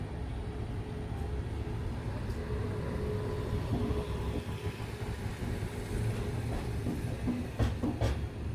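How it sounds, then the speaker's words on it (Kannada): The Rani Chennamma Express rolls along after leaving Yeshwantpur, a steady low rumble of the carriage heard from inside with faint rattles and a few clicks near the end, no talk. "11 ಗಂಟೆ 15 ನಿಮಿಷಕ್ಕೆ ನಮ್ಮ ಟ್ರೈನ್ ಯಶವಂತಪುರದಿಂದ ಹೊರಟಿದೆ"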